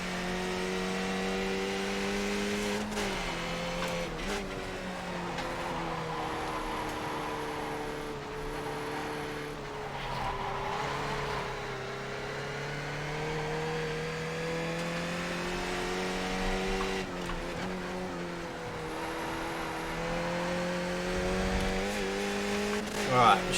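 A race car engine drones steadily through a sim racing game, with harmonic pitch rising and falling as it accelerates and shifts, while tires work through corners and a voice talks over the continuous loud drone.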